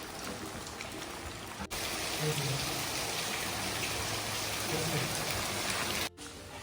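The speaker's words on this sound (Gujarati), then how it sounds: "વરસાદ ચાલુ થઈ ગયો મસ્ત મજાનો એક નંબર" Steady rain pours down in a dense, continuous hiss with faint voices underneath, interrupted briefly by two short dropouts.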